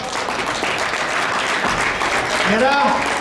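A crowd applauds and cheers steadily at a 40 kg strongsport competition in Gothenburg, a sustained clapping wash with a voice calling out over it.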